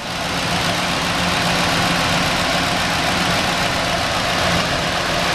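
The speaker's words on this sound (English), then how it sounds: "Here's the engine." A 2008 Ford F250 4X4 utility truck's engine idles under the open hood, a steady, loud, even mechanical hum with no talking.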